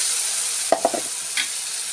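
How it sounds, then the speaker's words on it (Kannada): Coconut and tomato paste frying in a pan while making gravy, with a steady soft sizzle and a few short scraping stirs near the middle. "ಅದು ಚೆಂದಾಗಿ ಫ್ರೈ ಆಗುತ್ತೆ."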